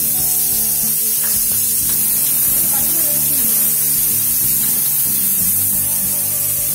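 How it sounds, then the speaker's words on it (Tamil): Mustard seeds splutter in hot oil while cooking a pakoda curry, a loud close crackling sizzle with tonal hum and other sounds underneath. "கடுகு வெடிக்குது"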